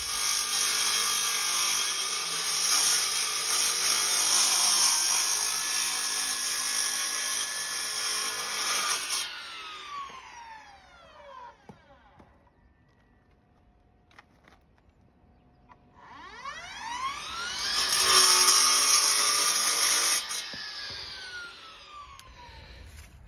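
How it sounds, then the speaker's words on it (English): A Husqvarna K1 PACE battery chop saw with a 14-inch blade whines loudly through a cut, winds down to quiet, then spins up and cuts again in a second burst, with no talk. "So this chop saw is equipped with a 14-inch blade"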